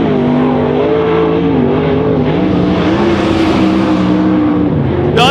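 A 410 sprint car races on the dirt track at Silver Dollar Speedway, its loud, continuous engine drone rising and falling in pitch as it laps, close and unbroken throughout.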